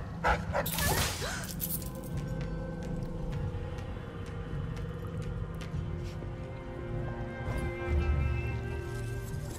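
Dog barking in the stealth video game Dishonored: Death of the Outsider, a few sharp barks early on over a steady game ambience with scattered clicks and tones, moderately loud.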